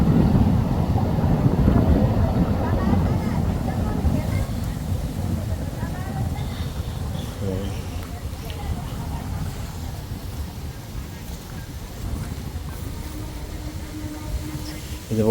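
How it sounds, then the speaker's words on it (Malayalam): A Konkan Railway train rumbles past at a distance in rural countryside, a steady low roar fading over the stretch with some wind buffeting, while someone talks. "കൊങ്ങൺ റെയിൽവേ കൂടാണ് ട്രെയിൻ പോകുന്നത്."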